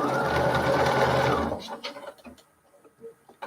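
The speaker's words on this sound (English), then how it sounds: "I'm just going to sew another piece on the end" Sewing machine stitching a quilt piece for a Dear Jane block, a close, steady run of rapid stitching for about a second and a half, then stopping, followed by faint handling clicks.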